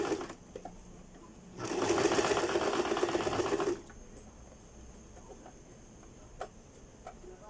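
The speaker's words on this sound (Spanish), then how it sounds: "pespunte en ambos lados, no mayor a 1/8 de pulgada de ancho." A sewing machine stitches a pocket seam in one close burst of rapid whirring needle strokes lasting about two seconds, with quieter handling sounds and faint clicks before and after.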